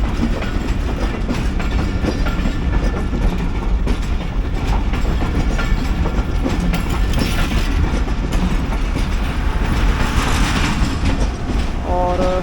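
Ten-coach Pakistani passenger express train rolling along the rails, a steady loud rumble with rhythmic wheel clatter throughout and a brief squeal near the end.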